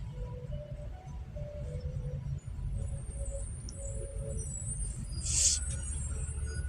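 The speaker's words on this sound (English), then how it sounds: "Okay, there's a school bus." A school bus passes with a steady low engine rumble, and its air brakes give a short sharp hiss near the end.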